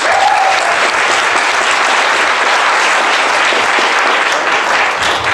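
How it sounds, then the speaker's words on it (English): An audience gives steady, dense applause for a speaker being introduced at a Jeunesse Global success system event. The clapping is loud and continuous from start to finish, with no talking over it. "So may all of you help me put your hands together for Samson Lee."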